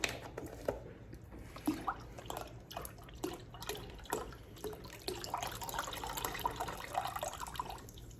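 Chicken broth splashes and trickles irregularly into a cup, with dripping, gurgling bursts rising and falling over several seconds.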